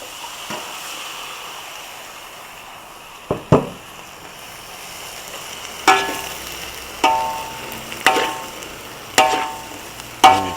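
Chinese kale hits a hot pan for a Thai stir-fry with salted fish, giving a soft sizzle broken by sharp metallic clanks and scrapes of a spatula, about half a dozen strikes coming more regularly toward the end.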